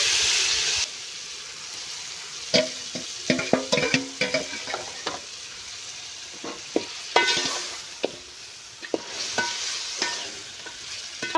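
Chicken fries with onions for biryani, stirred in a pan: a close sizzling hiss broken by irregular scraping and clattering bursts from the stirring.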